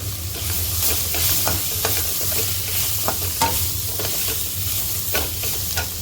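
Bitter gourds (karela) fry steadily in a pan on a gas stove, a continuous close sizzle broken by scraping stirs of a ladle every second or so.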